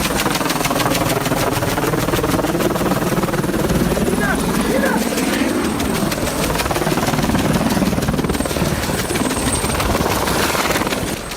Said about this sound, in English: even a jammed tail rotor couldn't stop one determined pilot from landing safely